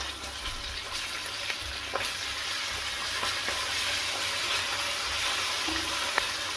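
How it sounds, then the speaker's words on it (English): Ginger and garlic paste frying in a pan for chicken saag, a steady close sizzle with occasional stirring scrapes and no talk. "add 1 teaspoon of ginger paste and 2 teaspoons of garlic paste. And fry that off with this"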